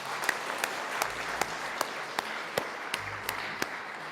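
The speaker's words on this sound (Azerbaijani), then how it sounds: "Mən bu məqamda istəyirəm hamı Novruz bəyə bir sürəkli alqış eləsin." A village gathering gives sustained applause, a steady crackle of many hands with sharper rhythmic claps standing out at regular intervals.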